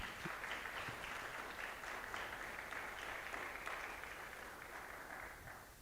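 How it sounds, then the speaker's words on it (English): An audience at the CorpsAfrica Kenya Project Demo Day claps for the second cohort, a steady, dense wash of many hands at a soft, even level, continuing unbroken without speech. "So allow me to request you to just clap for the second cohort."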